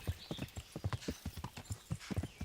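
A horse's hooves clip-clop in a video game, quick rhythmic strikes trotting steadily and close, with no other sound alongside.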